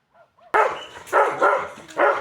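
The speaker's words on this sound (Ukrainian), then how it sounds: "Ось так гавкає собака на наших діток" A dog barks on a residential street in Kremenchuk where children are walking: a faint couple of yips, then a loud burst followed by three more sharp, close barks in an uneven rhythm.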